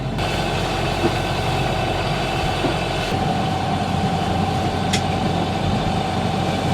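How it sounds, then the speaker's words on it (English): A sailboat motoring out of Reykjavik under engine power gives a steady low drone with a constant tonal hum and broadband noise, loud and unbroken throughout, with no talk. "So we just left Reykjavik and we are motoring out."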